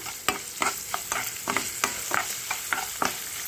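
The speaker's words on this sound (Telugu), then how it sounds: "ఇది ఇలాగే మామూలుగా నూనెతో బాగా వేగాలి" Beetroot and green chillies fry in hot oil, a steady close sizzle broken by regular scraping strokes of a spoon stirring the pan.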